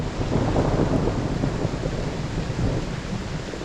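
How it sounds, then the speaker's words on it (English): Steady, dense rumble of a thunderstorm with heavy rain and wind in the Shropshire countryside, loud and continuous throughout with no voices. "Thunderstorm."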